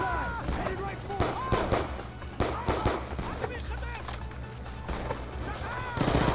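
Pistol fire in the Call of Duty: Black Ops 2 campaign, a rapid run of sharp repeated shots over game effects, close and loud, with voices talking over it.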